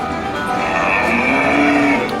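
Mechanical cow at the Catawampus display in Ghost Town, Knott's Berry Farm, gives a long sustained low moo against steady outdoor park ambience, fairly close and clear.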